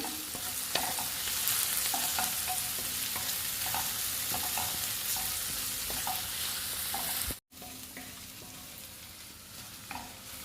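Egg rice ingredients are stirred with salt in a frying pan, a steady sizzle running under repeated soft scraping strokes of the spoon, with a brief dropout near the end.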